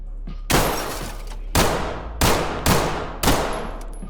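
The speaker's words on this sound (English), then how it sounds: "here's what happens if you shoot the camera" Five loud gunshots fired at a security camera in the tactical shooter Ready or Not, the first three spaced about a second apart and the last two closer together, each with a sharp crack and a short, bright ring-out. Another faint shot comes just before them.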